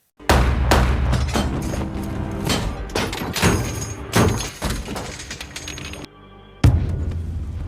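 A grenade explosion inside a tank in a war film: a sequence of loud, booming thuds and blasts with rumbling low end, followed by a brief hush and one final heavy boom.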